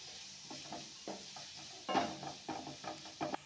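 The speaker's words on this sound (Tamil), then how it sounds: "நம்ம வதக்கிக்கலாம்." Chapati roll filling being sautéed in a pan, soft sizzling under repeated scrapes and taps of a spatula against the pan, quiet and close, in an irregular stirring rhythm.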